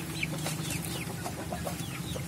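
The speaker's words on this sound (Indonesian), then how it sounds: "dan ini ayam pelung yang berwarna hitam." Young two-month-old pelung chickens and black pelung chickens in a litter-floored coop cluck softly and repeatedly, with a steady background hum and no talking.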